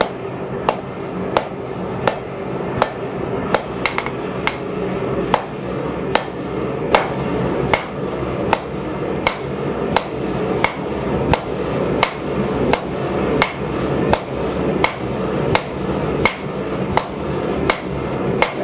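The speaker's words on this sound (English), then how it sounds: "Now I'll go a little heavier, now round side of the hammer." A blacksmith's hammer forging hot steel for a drawknife rings out in a steady rhythm of sharp metallic blows, around thirty close, loud strikes over a low background hum, with no talking.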